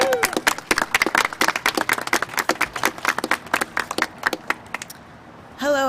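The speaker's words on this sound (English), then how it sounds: "Give her a big round of applause." An audience applauds a speaker introduced at a legislative hearing, giving dense, loud, continuous clapping that fades out before a voice begins to speak.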